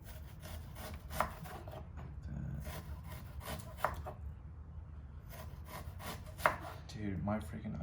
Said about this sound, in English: we're gonna cut them into skinny slices